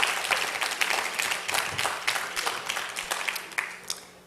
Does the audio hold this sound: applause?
yes